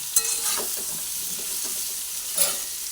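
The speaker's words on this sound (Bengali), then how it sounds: "পটলগুলো ভাজা হচ্ছে" Pointed gourd (potol) pieces fry in a pan with a little Kashmiri chili powder, making a steady sizzle marked by two quick utensil clinks.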